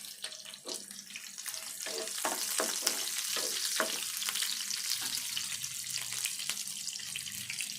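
Sliced onion goes into hot oil in a pan while cooking ivy gourd curry, a soft continuous sizzle broken by scattered clicks and stirring taps, fairly quiet and with no voices.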